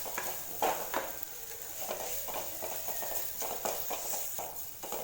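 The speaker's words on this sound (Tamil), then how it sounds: "மசாலா சேர்த்துட்டு நல்லா வதக்கி விட்டாச்சு" Ground pepper, cumin, green chili and garlic masala sautés in a pan for a tomato-free rasam, giving a faint continuous sizzle broken by soft, irregular stirring scrapes and taps.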